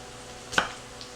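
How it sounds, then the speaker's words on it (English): A single knife cut slicing partway through an onion standing on end, a short crisp chop close up in a quiet kitchen. "I'm just cutting slices 3/4 of the way through the onion."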